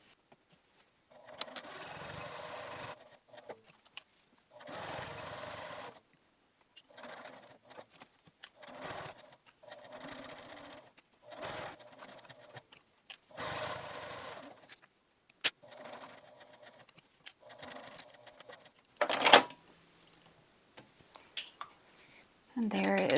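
A sewing machine running a 1/8-inch stitch line around a fabric storage bin, in a series of short and medium bursts separated by pauses, with some handling clatter near the end.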